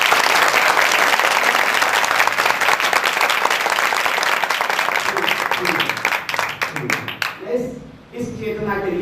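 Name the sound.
children clapping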